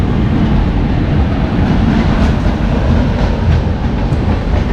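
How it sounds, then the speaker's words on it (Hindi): The Mumbai Rajdhani express, running between Mumbai and New Delhi, rushes past close by as a loud, steady roar of rolling wheels and carriages with faint clattering, continuous throughout with no voices. "ये कौन सी ट्रेन आ गई?"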